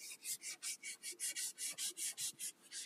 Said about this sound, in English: now we take out this fine sandpaper. This is 220.